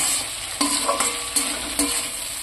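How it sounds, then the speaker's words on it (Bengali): Chicken chili fried rice with slit green chilies being stirred in a pan, a steady sizzle broken by four sharp scraping strokes of the spatula at regular intervals, close and clear with no talking. "এবার সমস্ত কিছুকে নাড়াচাড়া করে নিচ্ছি।"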